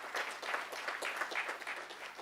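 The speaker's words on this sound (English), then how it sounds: "I request gathering to give a round of applause for the speaker." Applause from a workshop audience at an audit workshop, a steady patter of many hands clapping at moderate level, fairly quiet and distant throughout with no voices over it.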